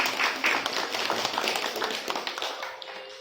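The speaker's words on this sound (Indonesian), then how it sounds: "Jadi tepuk tangan buat semua orang tua." Audience clapping in appreciation for parents at a basketball association gathering, a dense, steady wash of many hands applauding throughout, fairly close and lively, with scattered sharper claps standing out.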